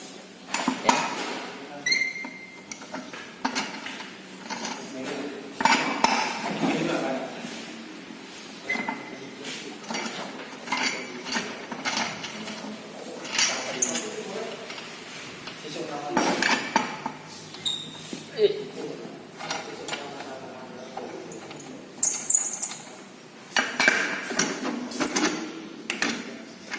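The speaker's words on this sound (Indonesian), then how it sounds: "selanjutnya kita lepas mur rodanya" Wheel nuts are loosened on a Toyota Kijang, giving a series of metallic clinks, taps and ratcheting knocks in an irregular rhythm, with someone talking at intervals between them.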